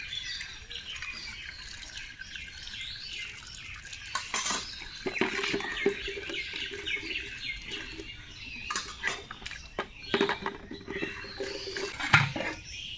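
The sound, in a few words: washing soot off a cooking pot with water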